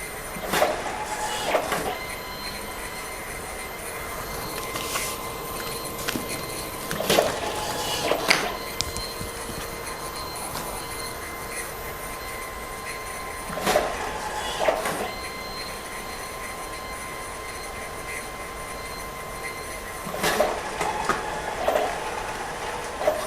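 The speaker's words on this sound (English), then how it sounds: "now the printer's starting." A desktop printer runs through a page in an indoor room, giving repeated short mechanical bursts and clicks every few seconds over a steady whirring hum.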